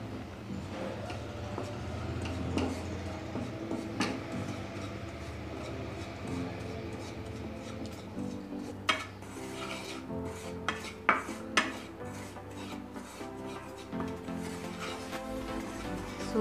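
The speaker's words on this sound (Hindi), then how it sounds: "सबसे पहले हम पैन में सूजी को अच्छे से भून लेंगे" Semolina roasting in a pan on a gas stove while a spoon stirs it, giving a steady rasping scrape with clinks of metal on the pan, close and continuous with no talk.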